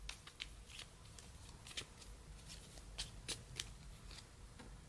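Sovereign Oracle cards being shuffled by hand, a steady run of soft papery riffles and flicks with sharper snaps scattered through, close and fairly quiet, with no talking.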